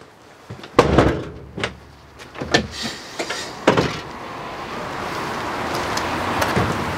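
Crew cab doors on an LF 20 fire engine open and shut in a run of sharp thuds and slides over roughly four seconds, close and fairly loud, followed by a steady background hum.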